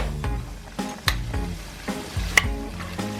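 Spinach sizzles and fries in a hot seasoned pan, a steady crackling hiss broken by several scraping stirs, close and without talk.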